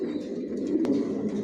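A racer pigeon cooing softly in a loft, a low, throaty murmur over about a second and a half, near but quiet.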